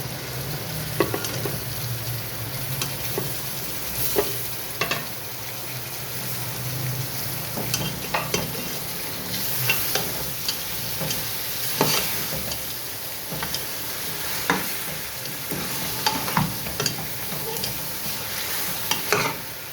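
Goat head frying in a pan with chillies and onions, a steady close sizzle with repeated stirring clatters and scrapes throughout, no voices.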